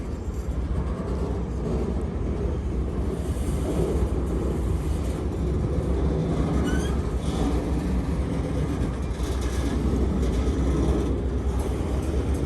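A train rolls steadily past an abandoned railroad crossing, a continuous broad rumble holding at an even level throughout with no voices.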